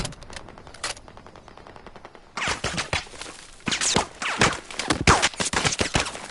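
Gunfire in Battlefield 4 on PS4: rapid automatic bursts, sparse and quieter at first, then louder, denser volleys from about the midpoint, sharp cracking shots overlapping in irregular clusters.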